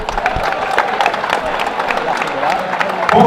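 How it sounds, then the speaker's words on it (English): Crowd applause and cheering at a live professional boxing show at the Magna in Sheffield, a steady mid-loud ovation with scattered claps and shouts and some voices mixed in, swelling slightly near the end. "a round of applause for both fighters"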